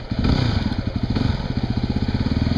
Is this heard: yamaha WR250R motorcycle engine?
yes